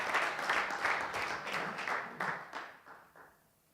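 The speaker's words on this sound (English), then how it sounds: "Let's give a round of applause for Samwel." A small audience at a Kenyan innovation pitch event claps for a presenter, a patter of individual claps that thins and fades out over a few seconds, fairly faint.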